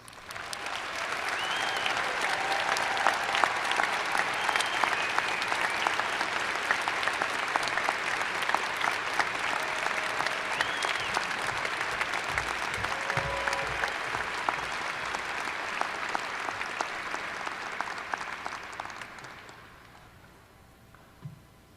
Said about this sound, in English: will you please join me in a round of applause for those in attendance?